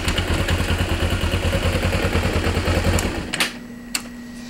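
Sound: 2012 Kawasaki Ninja EX250 motorcycle engine, shifting down gears

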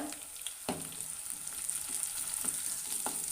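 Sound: sautéing green chillies in a pan

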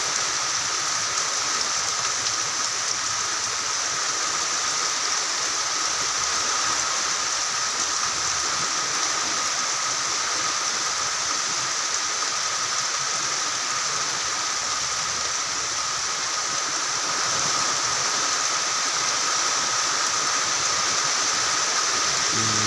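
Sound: heavy rain during flooding

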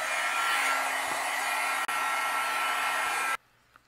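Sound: heat gun melting embossing powder

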